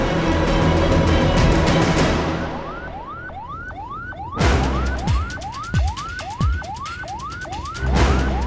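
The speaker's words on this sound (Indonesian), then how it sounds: "Ambulan? Siapa yang sakit?" An ambulance siren wails in steady rising sweeps, loud and close, with heavy thumps and bangs cutting in partway through.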